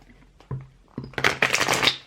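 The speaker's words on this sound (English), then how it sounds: "I'm going to do a live shuffle for you" A deck of tarot cards is shuffled live, with a few soft handling taps and card slides before a dense, close riffling burst that builds and runs to the end.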